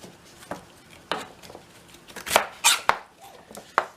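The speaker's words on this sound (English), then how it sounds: "you're just going to basically take and cut the ends off of them" A knife chops the ends off celery stalks on a cutting board, giving a series of sharp, close knocks at an irregular pace, with a cluster of louder strikes near the end and no talking.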